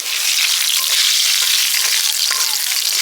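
Prawns fry in a pan with a dense, continuous close sizzle that holds steady throughout and cuts off abruptly at the end.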